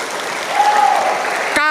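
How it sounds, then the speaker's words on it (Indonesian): Applause from an audience at an Indonesian religious lecture by a Nahdlatul Ulama speaker, a steady wash of clapping lasting under two seconds before cutting off abruptly. "Tepuk tangan."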